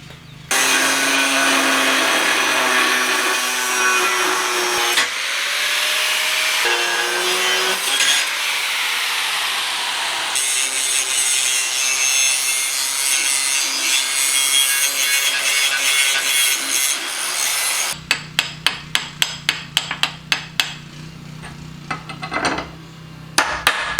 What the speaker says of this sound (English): I'll use a cutoff wheel to do this over here.